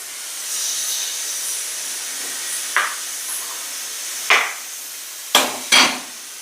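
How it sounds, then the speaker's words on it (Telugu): Finely chopped bottle gourd pieces drop into a hot pan, giving a steady background hiss broken by four sharp bursts of sizzle as handfuls land, the last two close together and loudest. "ఇప్పుడు సన్నగా తరిగినటువంటి సొరకాయ ముక్కలు వేస్తానండి"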